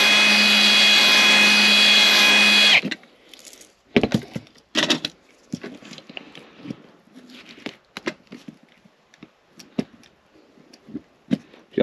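A small drill bites into a diecast car wheel with a steady, loud whirring buzz for a few seconds, then stops, leaving scattered faint clicks and handling taps.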